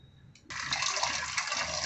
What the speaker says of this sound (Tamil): அதில் இருக்கிற தண்ணியெல்லாம் எல்லாத்தையும் வடித்து எடுத்துருங்க